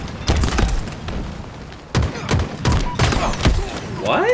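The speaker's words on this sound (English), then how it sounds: "I guess I was getting hit by nades." Grenade blasts in a capture-the-flag video game match, several sharp booms and thuds in quick succession amid chaotic game noise.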